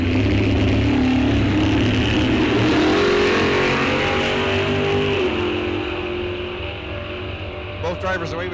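A 1972 Duster and a 1969 Firebird launch side by side at a drag strip, a loud sustained engine roar building near and then easing as the cars pull away, with a track announcer talking over it.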